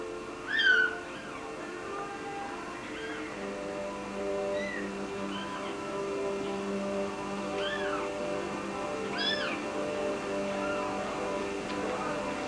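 Cats at an animal shelter meow repeatedly in short, rising calls over a steady low purr, close by and fairly quiet throughout.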